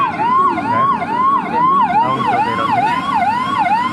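A loud, close ambulance siren at a fire rescue scene wails in rapid repeating rising-and-falling sweeps, with traffic noise underneath.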